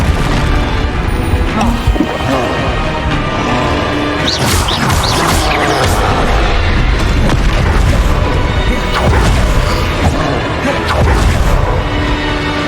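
Spell blasts and explosions from combat in the video game Hogwarts Legacy: dense, continuous loud booms and crashing impacts pile up with no break, under a busy layer of battle noise.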